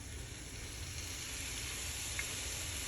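Soy sauce sizzling in a pan with vegan shepherd's pie filling, a soft, steady frying hiss throughout with a faint clink near the end and no voices.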